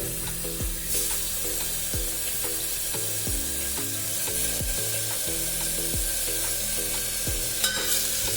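Banana stem sautés in coconut oil in a hot pressure cooker, giving a close, steady sizzle with repeated scraping stirs and clinks of a spoon against the metal pot, and no voices.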